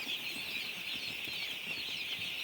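Broiler chickens on a poultry farm at night, a constant faint clucking and wing-flapping rustle from the flock with a steady high hiss, no voices.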